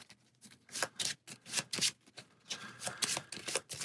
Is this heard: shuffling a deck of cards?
yes